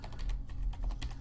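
Typing on a computer keyboard, a quick run of light, close key clicks in an uneven rhythm, no voices.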